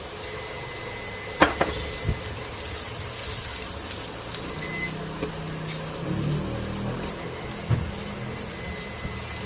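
A tablespoon of shrimp paste (alamang) sizzles in a pan while Bicol Express with milkfish is cooked. The frying is a steady crackle with a few sharp clicks and utensil knocks, and no one talks.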